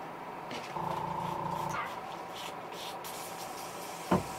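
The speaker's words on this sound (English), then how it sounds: "Y'all hear my wife's crazy dog out there?" A dog outside a workshop where a fishing lure is being custom painted whines in a thin sustained tone for about a second, faint and distant, followed later by a sharp nearby knock.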